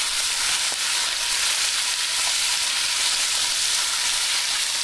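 Food sautés in hot sunflower oil in a pan on a stove, a dense, even sizzle heard up close and alone for the full few seconds.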